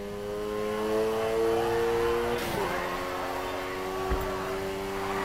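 Car engine in Need for Speed Heat held at steady high revs while drifting, a sustained tonal drone that wavers and dips briefly midway, moderately loud with a faint thump near the end.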